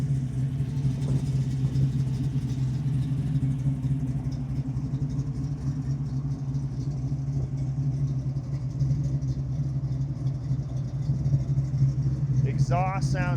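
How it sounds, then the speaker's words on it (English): A steady, deep engine rumble from the 6.2L LS3 V8 exhaust of a 1969 Chevrolet Camaro restomod idles throughout, loud and close, with a brief higher-pitched sound near the end. "Exhaust sounds just like you'd want it to for a 69 Restomod LS3 Camaro."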